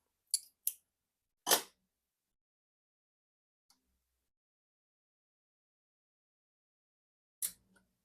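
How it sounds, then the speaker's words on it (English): Scissors snip through yarn during a machine-knitting project, giving four sharp, isolated cuts separated by long quiet gaps, close and clear with no talking. "And we'll cut this yarn."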